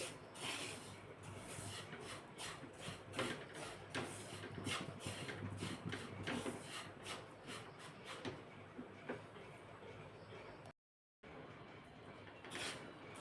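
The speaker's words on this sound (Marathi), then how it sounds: "आता हा रवा भाजून घ्यायचा थोडासा कलर चेंज होईपर्यंतच भाजायचा फार काळा करायचा नाही" Semolina dry-roasting in a pan as a spoon stirs it, giving a steady close scraping and rubbing with rhythmic strokes throughout and a brief gap near the end, no talking.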